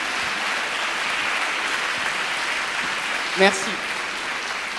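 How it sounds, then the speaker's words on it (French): Steady applause from an audience at a December 2015 colloquium, a dense even wash of clapping that fills the room, with a single short word of thanks spoken over it near the end. "je veux surtout que vous applaudissiez très fort"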